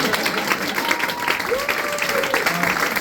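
A comedy audience at a Berlin stand-up show claps steadily for a few seconds, a dense, close wash of applause with a voice briefly audible over it.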